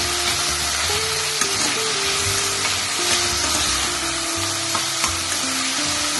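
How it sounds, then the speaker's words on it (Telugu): Onion and tomato cook in oil for a black-eyed pea and potato curry, producing a loud continuous sizzle with occasional stirring scrapes, no voices. "ఆనియన్, టమాటో కొంచెం ఆయిల్లో మగ్గనివ్వాలి."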